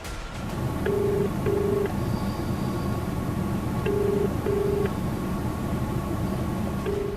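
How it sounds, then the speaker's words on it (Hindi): A telephone ringback tone from a call to a hospital repeats in paired bursts, ringing again and again with no answer, over a steady background hum. "फोन की घंटी बजती रही लेकिन जवाब नहीं मिला"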